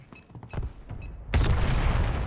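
Video game gunfire aimed at the windows of a house: scattered sharp shots, then a dense, loud burst of sustained shooting close by.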